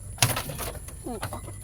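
A pigeon gives a short, soft coo amid a busy outdoor background, with brief voices and rustling around it.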